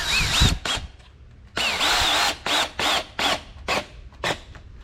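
A power drill drives two screws into a door striker plate during an exterior door knob install, in short bursts: one long whir, then several quick pulses of the motor, close and fairly loud.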